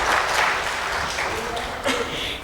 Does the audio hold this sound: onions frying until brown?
no